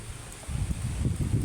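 Low, rumbling wind gusts from Typhoon Basyang in Bohol buffet the microphone, rising after a brief lull and continuing steadily with a faint rustle on top.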